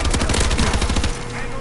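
Rapid automatic gunfire from the Advanced Warfare shooter game, a dense burst of close, loud shots in quick rhythm that cuts off after about a second, leaving a fading tail.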